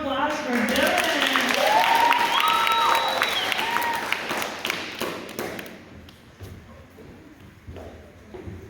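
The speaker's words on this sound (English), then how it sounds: "All right, round of applause for Dylan." Audience applause and a few cheers at a church youth gathering, loud at first with some voices mixed in, then thinning and fading away over several seconds.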